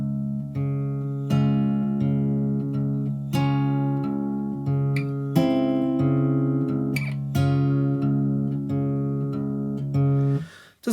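Bars 11 and 12 of a song are picked slowly on an acoustic guitar, with clear ringing notes and chords struck one after another at a steady unhurried pace, up close.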